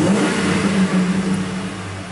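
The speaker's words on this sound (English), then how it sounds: "Do a snap throttle there." A Ford F-150 pickup's 5.4-liter engine, running rough and lean, revs up in a quick snap of the throttle, a steady loud mid-range engine roar sustained throughout with no talking.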